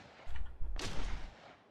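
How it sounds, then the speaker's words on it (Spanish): A gunshot in the video game Miscreated cracks once, sharp and fairly loud, followed by a brief rumbling tail, preceded by faint softer thumps. "Creo que sonaban medio para acá los tiros"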